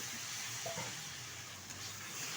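Goat brain and potatoes fry gently over low heat in a pan, giving a soft, continuous sizzle and hiss with a faint stir or scrape partway through and no voices.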